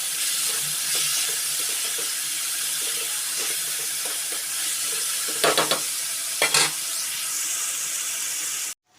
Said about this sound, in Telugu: వీటిని ఇలా బాగా రోస్ట్ చేయాలి. ఇది ఫ్రై కాబట్టి కొద్దిగా ఆయిల్ అయితే ఎక్కువ పడుతుంది.